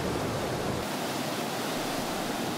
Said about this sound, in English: The water flows with great force over a great distance downstream over many steps.